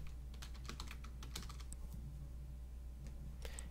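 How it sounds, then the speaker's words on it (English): Computer keyboard typing in a quiet room: a steady run of light, quick key clicks with irregular pauses, close and fairly faint over low background hum, no voices. "if you want to add a title to your video, you can type your title here"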